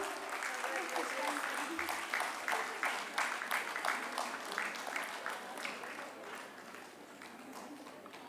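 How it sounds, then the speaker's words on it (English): An audience claps continuously through a Women's Day celebration prize announcement at SIMATS Engineering, a steady, fairly close wash of applause with dense individual claps and a slight fade toward the end. "good round of applause."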